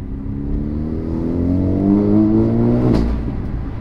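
Engine of a Nissan/Renault revving up with a rising whir, then a brief sharp whoosh of a GFB DV+ turbo diverter valve venting boost to atmosphere near the end before the rev settles.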